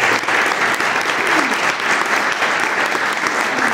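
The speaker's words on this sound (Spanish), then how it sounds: "un aplauso para ustedes," Steady, dense applause from a gathered crowd of neighbours at a civic housing event, loud and sustained throughout without a break.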